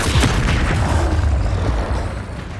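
A Bombarda spell detonating in the Hogwarts Legacy video game, a loud, heavy boom that rolls out and fades over a couple of seconds.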